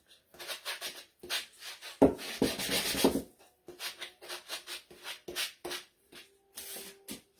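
Sanding the black buttons on wooden gingerbread man decor, heard as close, repeated rhythmic rubbing strokes with short pauses between them and one longer, denser stretch in the middle.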